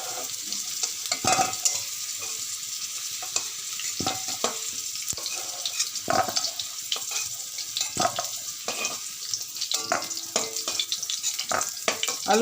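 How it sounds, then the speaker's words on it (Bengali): Deep-fried potato pieces are scooped out of hot oil in a pan, with scraping, stirring clatter over a continuous sizzle of frying, close and fairly busy throughout. "আলুগুলো ভাজার পরে তুলে নিই।"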